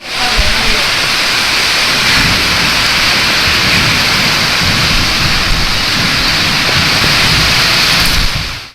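Heavy rain pouring down in a city, a loud dense hiss of rainfall on surfaces that continues unbroken, with a voice talking over it.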